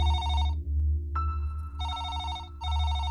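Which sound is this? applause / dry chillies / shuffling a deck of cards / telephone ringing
telephone ringing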